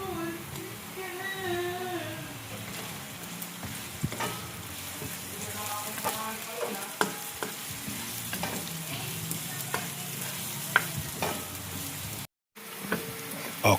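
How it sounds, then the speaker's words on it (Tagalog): Onion, garlic and ginger sauté in a pan with a steady crackling sizzle and scattered utensil taps, close and moderately loud, while faint background voices and noises drift in beneath; sound drops out briefly near the end. "Nagisa na natin yung sibuyas, bawang at luya."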